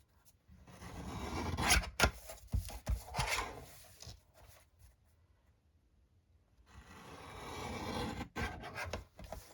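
Paper being trimmed for a vintage Christmas junk journal, a dry rasping, scraping cut in close strokes, running for a few seconds, pausing briefly, then resuming, with no talk.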